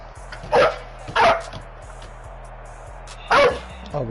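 Dog barking several times, sharp and fairly close, three loud barks with a softer one at the end over a steady low hum from a live PS4 game broadcast.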